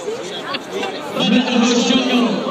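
Crowd noise at a football away match, a steady murmur of chatter and voices swelling louder midway and holding at a dense, close roar.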